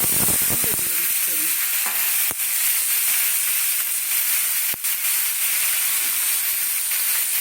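Capsicum and tomato fry in oil with asafoetida in a pan, producing a loud, steady hissing sizzle with a few scraping clatters near the start and brief knocks midway.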